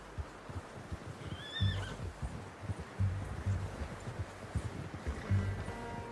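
A horse in Red Dead Redemption 2 gives a short whinny amid soft hoof clops and rustling ambience, a game scene with no talk at this point.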